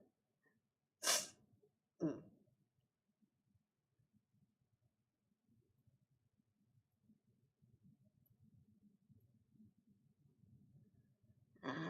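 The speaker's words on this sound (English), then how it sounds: "I can feel a sneeze already coming on." Two sharp sneezes close together break a quiet room, followed by faint breathing and rustling, then another burst at the end.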